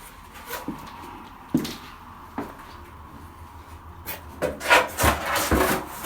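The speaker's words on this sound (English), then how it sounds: "This stuff cuts so easy, it's literally like just foam." Soft foam-like plasterboard is cut at home, producing quiet scraping and rasping strokes, a few scattered rubs followed by a denser cluster of louder cuts near the end, close by with no speech.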